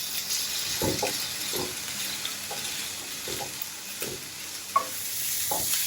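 Onion, garlic and green chili fry with salt in a pan for a Kerala sardine dish, a steady sizzling hiss punctuated by regular scraping stirs roughly every second, near and clear, with no speech.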